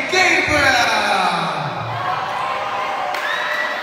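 Students at a school opening event cheering loudly, a big crowd roar with shouts and whoops, sustained throughout, mixed with voices.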